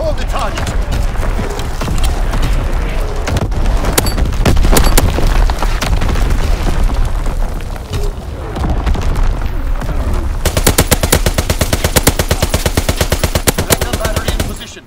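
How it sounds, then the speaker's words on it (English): Gunfire from a fighter aircraft strafing run on the Shipment 1944 map in a Call of Duty: WWII team deathmatch, loud and dense, with heavy booms early and then a fast, even rattle of rapid shots, mixed with voices. "Fighter aircraft ready for strafing run"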